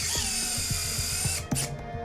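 A surgical screw is driven into a bone plate on a dog's leg with a ratcheting driver, giving a quick run of regular close clicks, then a sharper metallic clack and a few more clicks.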